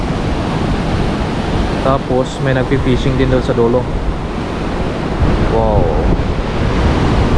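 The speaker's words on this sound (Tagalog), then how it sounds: "grabe yung alon." Strong ocean waves and surf roar continuously on the east side of an island in American Samoa near Tula Village, mixed with gusty wind buffeting the microphone while someone talks over it.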